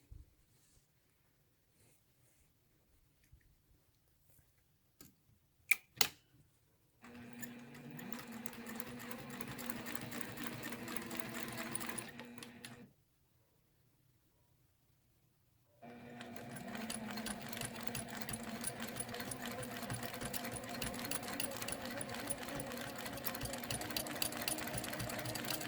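Domestic sewing machine doing straight-line quilting, two long stretches of steady, rapid stitching separated by a pause, preceded by a few faint clicks and adjustments, recorded fairly quietly.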